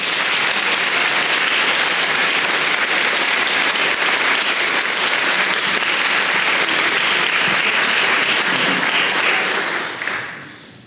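Sustained, loud applause from a large crowd, steady clapping throughout before it tapers off at the end.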